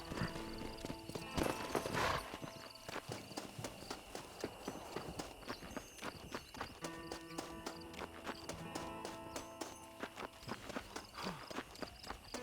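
Horse hooves clip-clop steadily in Red Dead Redemption, close and clear, with a brief whinny near the start and game music and ambience beneath.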